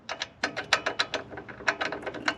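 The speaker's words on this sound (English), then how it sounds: "you need the 18 and a 9mm on a ratchet" A hand ratchet turns a nut on a Chevrolet Equinox suspension, producing a steady series of crisp, close clicks in quick rhythmic strokes, with short pauses between groups of clicks.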